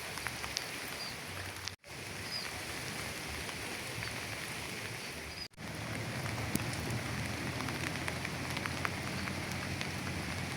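Steady rain pours down close by at Puncak Dharma, Geopark Ciletuh, Sukabumi, West Java, a dense continuous patter on surfaces with a couple of brief dropouts.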